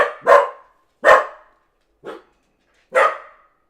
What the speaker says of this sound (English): I don't know what's going on with this dog